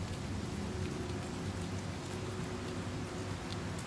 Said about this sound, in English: It's like playing raining sounds when we're inside.